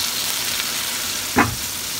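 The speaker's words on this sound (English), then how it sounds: "we cook the finely chopped onions and garlic in a wok with canola oil or peanut oil" Finely chopped onions and garlic frying in a wok with canola or peanut oil, a dense steady hiss close up, broken by one short louder scrape or clatter near the end.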